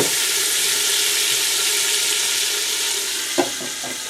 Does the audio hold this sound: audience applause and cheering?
no